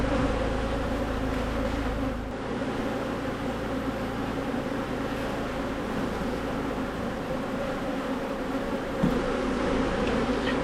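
Honey bees drone in a dense, continuous buzz at an opened hive during a frame inspection, close and steady throughout with no talking.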